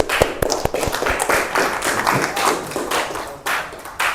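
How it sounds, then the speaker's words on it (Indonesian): An audience in a classroom-style session gives a round of applause for a presenting group: dense, close hand clapping with a few sharper individual claps standing out, sustained evenly throughout. "mari kita berikan aplaus untuk kelompok 1."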